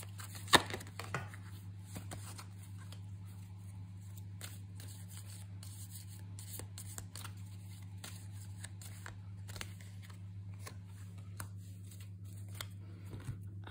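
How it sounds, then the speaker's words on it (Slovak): Soft rustling and light shuffling of oracle cards with small taps as cards are handled and drawn from the deck, over a steady low hum, no voices. "ešte si k tomu vytiahnem oraklové karty"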